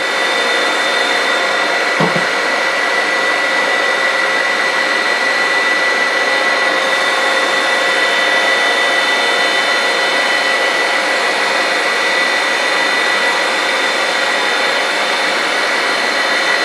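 Surface grinding machine making a climb cut on bar Z squares: a loud, continuous, steady whine and rushing hum, unbroken for the whole stretch, close and dominant with no speech.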